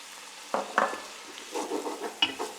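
Garlic frying with bacon in a pan, a soft continuous sizzle broken by a few clinks and scrapes of a spoon stirring, close by with no voices.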